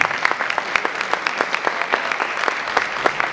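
A concert audience claps in a steady, somewhat rhythmic applause, individual hand claps standing out clearly from the crowd.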